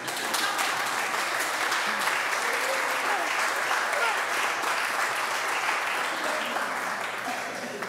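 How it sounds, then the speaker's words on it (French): An audience at a 2014 forum breaks into dense, continuous applause, a steady wash of many clapping hands from a large crowd, even in loudness throughout, with faint voices mixed in underneath. "Si vous n'applaudissez pas, je m'en vais."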